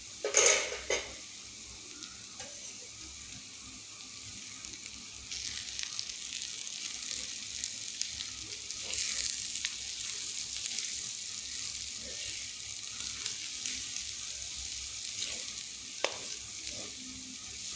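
Ground coriander and garam masala being stirred and fried in a pan for chicken curry, with a steady low sizzle, a sharp clatter of a spoon at the start and occasional scrapes against the pan.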